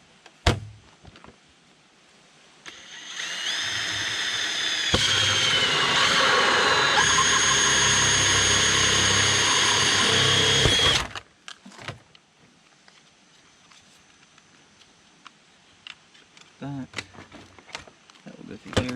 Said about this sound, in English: now I'm going to go ahead and drill my hole through here